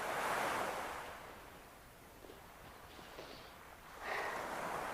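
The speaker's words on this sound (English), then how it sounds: "I can't make the waves be quiet either" Ocean waves break on a beach, a loud wash of surf with wind across the microphone that fades into a lull mid-way before another wave crashes in strongly near the end.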